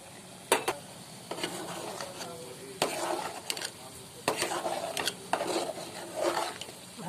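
Turmeric and water being stirred into a cooking pot for khichuri, with a series of scraping, clinking strokes against the metal at an uneven rhythm, close by in a quiet kitchen.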